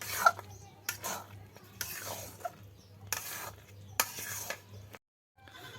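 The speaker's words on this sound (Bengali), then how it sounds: "আর আমের আচারটাও প্রায় হয়ে আসছে, আর একটু নেড়ে ছেড়ে নামিয়ে নেবে" Mango pickle stirred in a pan, with scraping, clinking spoon strokes coming in bursts about once a second over a low steady hum and faint sizzle, then stopping briefly near the end.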